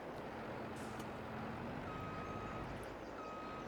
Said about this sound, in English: Now to empty your harvester, you just have to reverse up to your trailer.